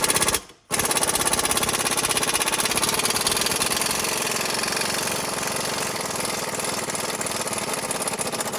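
An impact wrench rattling an 18mm control arm nut off a 2012 Nissan Rogue, a steady loud buzzing hammer that pauses once briefly, then runs continuously for about eight seconds, close up with no talking.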